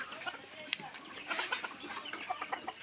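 Native village chickens, hens with chicks, cluck softly in a scattered, irregular stream, fairly faint, with some murmuring voices mixed in.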